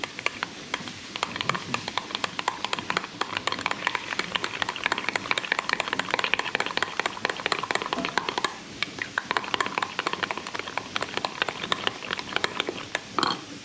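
Bacon carbonara sauce seasoned with white pepper is stirred in a pan, with soft continuous sizzling and scraping under a faint steady background hiss.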